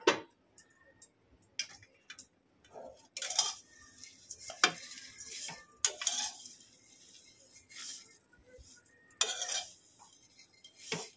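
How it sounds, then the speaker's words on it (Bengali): A spoon stirring semai vermicelli with sugar in a pan, scattered close scraping clinks and taps against the metal in irregular bursts, some louder scrapes among quiet pauses, no talk. "আবার একটু ভালো করে নেড়ে চেড়ে নেব।"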